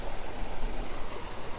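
Small waterfall on a tiny creek pours over a rock shelf, giving a steady, close, broadband rush of splashing water with no pauses and no voices.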